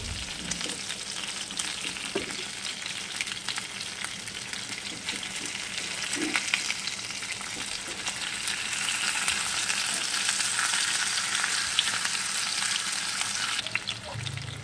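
Chicken leg pieces frying in butter in a pan make a loud, continuous crackling sizzle that swells slightly midway, with faint stirring scrapes underneath.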